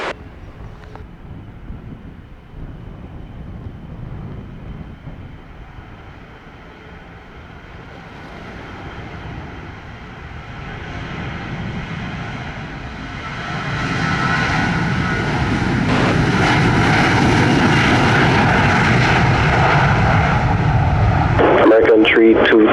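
A jet airliner taking off at Montego Bay airport, a broad roar building steadily from a distant hum to a loud, wind-buffeted rush, with radio tower chatter heard underneath.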